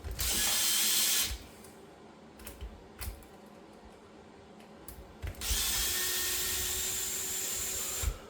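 A ratchet unscrews bolts while a model kit is taken apart, its close, rapid clicking coming in two busy bursts around a quieter stretch of scattered single clicks.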